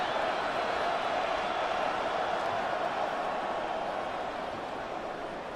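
Stadium crowd shouting in the Madden 26 football video game, Commanders vs Eagles: a steady, dense roar of many voices held at an even level throughout, fairly distant and washed together with no single voice standing out.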